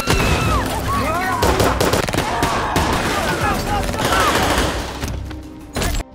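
Gunfire in a film scene, a loud, dense barrage of rapid shots and bursts mixed with other action noise and faint voices, tailing off quickly at the end.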